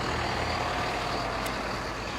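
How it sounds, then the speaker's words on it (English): A school bus drives past close by, its heavy engine and road noise forming a loud, continuous broadband roar with no talking. "there goes the school bus"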